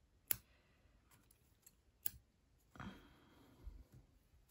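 Scissors snipping crochet yarn strands on an amigurumi autumn ornament, a few separate sharp snips and clicks spaced apart, close and quiet, with no talking.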